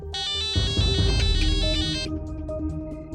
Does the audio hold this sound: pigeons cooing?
no